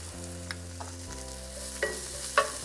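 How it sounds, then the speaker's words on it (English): Minced garlic sautéing with onion in oil in a pot for carne guisada beef stew: a constant close sizzle with a few sharp clinks and stirring scrapes over a low hum, no voices. "we're going to add 3 minced garlic cloves"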